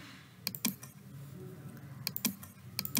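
Typing on a computer keyboard: a few crisp, close key clicks in small clusters over a quiet room hum, with no talking.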